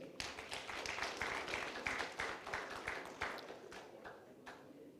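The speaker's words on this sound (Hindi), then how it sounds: "इसलिए अमय जी और अनिल जी और उनकी टीम के लिए एक जोरदार तालियां हो जाए।" An audience at an award ceremony applauds, a faint, steady patter of many hands clapping from a distance for several seconds, slowly thinning out toward the end.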